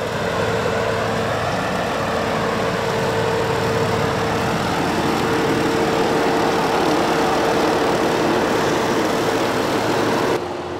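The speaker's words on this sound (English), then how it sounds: "We put the tractor into EPTO, so that means the PTO can run at 540 RPMs at much lower engine RPMs." Tractor engine held at low RPM in EPTO mode while running a 10-foot batwing mower on ditch banks, a steady, continuous droning hum with a constant tone, loud and close, running alone without talk for the whole stretch.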